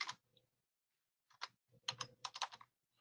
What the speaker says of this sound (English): We can type in a value.